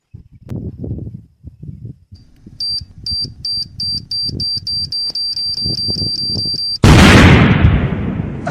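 A firecracker bomb set off beneath a coconut bursts with one sudden, very loud blast and a long rushing decay. Before it, people talk and a repeating electronic beeping chirps steadily.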